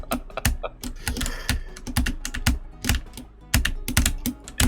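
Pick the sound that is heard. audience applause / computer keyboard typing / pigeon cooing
computer keyboard typing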